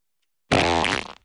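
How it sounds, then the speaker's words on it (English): A single loud, close cartoon fart from Family Guy, a buzzing blast of just under a second that trails off, heard alone after a moment of silence. "Looks like it might give me the kind of farts I get from eating Mexican food."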